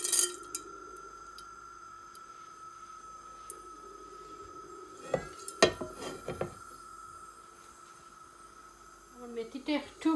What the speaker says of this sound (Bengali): ঘিটা আমার একটু গরম হয়েছে, এখন আমি কয়েকটার দানা মেথি দিব